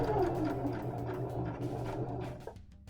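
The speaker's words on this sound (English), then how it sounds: "we're going to sew to the corner, but we're going to stop about a 1/4 inch before" A sewing machine stitches fabric toward a corner, a close, steady mechanical whir with rapid needle pulses, easing off and stopping near the end.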